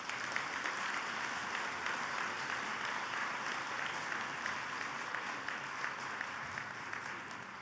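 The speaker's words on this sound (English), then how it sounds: "give them all a collective round of applause" At a Good Citizen Day awards banquet, a seated audience gives a collective round of applause for the board of trustees, an even, steady patter of many hands heard from some distance, fairly soft throughout.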